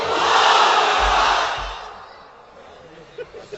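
A crowd of married men at a religious gathering shout Allahu Akbar together in one loud, sustained unison roar that fades away after about two seconds, leaving near quiet.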